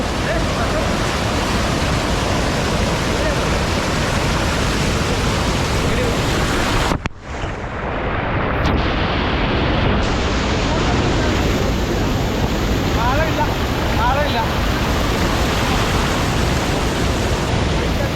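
Aruvikkal waterfall during the monsoon, with water crashing down onto a swimmer's back, makes a dense, steady roar that fills the whole stretch up close, with a brief dip near the middle and faint voices underneath.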